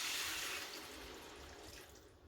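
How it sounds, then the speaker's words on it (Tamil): Water poured into a pan of egg curry gravy while cooking, a steady soft rushing splash that fades slightly toward the end, quiet and alone. "இப்போ நான் இதுக்கு தண்ணி ஊற்றிக்கொள்ள போகிறேன்."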